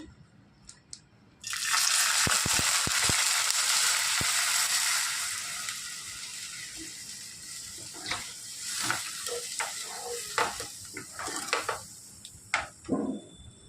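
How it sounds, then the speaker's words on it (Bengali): Milk poured onto caramelized, reddened sugar in a pan for mango kheer, a sudden loud rushing hiss that bursts in and stays strong for a few seconds, then fades into softer bubbling with scattered stirring clinks. "এখন আমি এর ভিতরে দুধটা ঢেলে দেবো"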